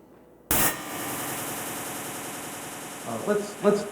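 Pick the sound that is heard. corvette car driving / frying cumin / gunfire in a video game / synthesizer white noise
synthesizer white noise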